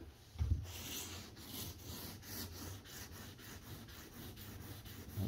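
Wet sanding of paint by hand on a 1996 Cadillac Fleetwood lowrider, a soft rhythmic back-and-forth rubbing with repeated strokes at close range, fairly quiet and steady throughout, with no voices.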